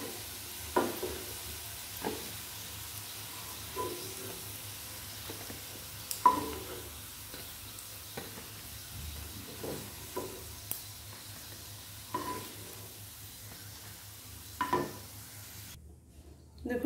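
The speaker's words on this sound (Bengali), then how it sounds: "এই বড়াগুলো সুন্দরভাবে ভাজা হয়ে গেছে" Fish roe fritters fry in hot oil, a soft, continuous sizzle with periodic scrapes and taps of a spatula stirring and lifting them from the pan.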